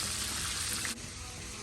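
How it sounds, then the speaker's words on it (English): Steady sizzling of chicken frying in hot oil, a dense crackling hiss that drops slightly in level partway through. "we're just gonna continue frying them until all of our chickens are fried"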